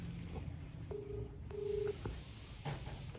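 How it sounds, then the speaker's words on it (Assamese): A phone keypad gives two short, quiet electronic tones in a row over faint background noise in a room. "ফোন মাৰোঁ"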